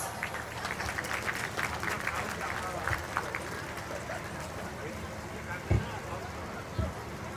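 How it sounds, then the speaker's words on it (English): Guests at a formal school education event receive moderate applause from the gathering, steady clapping with a few louder thumps and voices mixed in beneath it. "Let us give them a warm round of applause."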